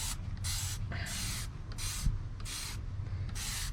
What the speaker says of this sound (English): I'm gonna start with spraying this again.